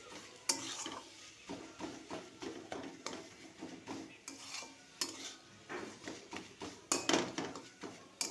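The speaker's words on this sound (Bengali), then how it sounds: "এভাবে একটু খুন্তি দিয়ে নাড়াচাড়া করে নেব" A spatula stirs and mashes bottle gourd peel chechki in a pan, with regular scraping and tapping strokes against the metal over a soft sizzle, close up and without speech.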